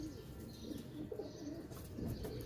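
A pigeon coos in low, rolling phrases nearby, with faint chirps and a brief flutter in the background.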